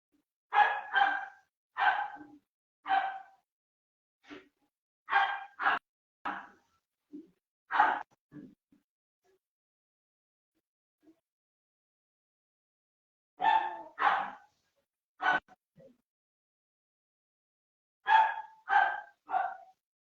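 A dog barks in repeated bursts of sharp woofs, several in quick succession, then a long pause before more clusters of barks, fairly close and loud with no talk over them.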